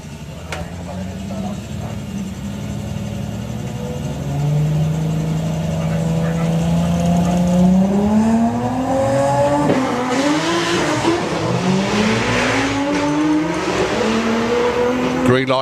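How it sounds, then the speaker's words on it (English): VW Corrado and Mark II Golf launch side by side in a drag race at Santa Pod, engines revving up through the gears with a rising, loud roar, while a commentator talks over the noise. "Green light drag racing once again."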